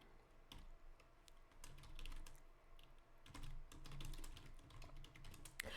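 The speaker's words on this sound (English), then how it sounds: "I want to finish typing" Someone types on a computer keyboard in two quick bursts of irregular, close-up key clicks separated by a short pause, with no voices.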